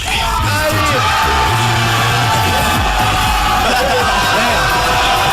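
A loud, dense television studio audience cheers and shouts without pause, whoops and yells piling over one another in a lively room.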